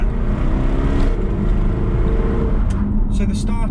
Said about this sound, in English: the startup of the XKRS and an XKR with a stock exhaust system does have a little bit of a drone upon the initial cold startup